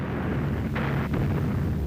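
Distant artillery gunfire from Soviet guns rumbles low and steady under a constant roar, with a couple of brief dull thuds swelling midway.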